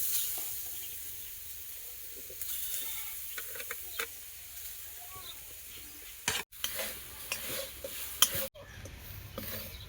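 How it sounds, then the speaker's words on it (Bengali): Grated coconut being stirred in a dry wok for a sweet filling, a soft, quiet hiss under intermittent scraping and clinks of a utensil against the pan, growing more active toward the end. "প্রথমে কড়াই দিয়ে দিচ্ছি নারকেল।"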